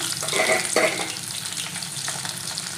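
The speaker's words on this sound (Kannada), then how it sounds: "ಇದು ಕೆಂಪು ಬಣ್ಣ ಬರೋವರೆಗೂ ನೀವು ಫ್ರೈ ಮಾಡ್ಬೋದು" Garlic frying in oil in a pan while making raw mango thokku: a continuous close crackle and sizzle with a couple of brief brighter bursts early on.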